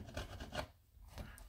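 Hand file rasping a metal model railway rail, a few quiet back-and-forth strokes close by, with a short pause before another stroke.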